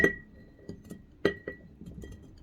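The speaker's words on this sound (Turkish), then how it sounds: "doğradığım salatalıklarımı da içerisine atıyorum" Small wet cucumber slices drop into a glass jar in scattered clinks and soft taps, a few sharper knocks against the glass, close by.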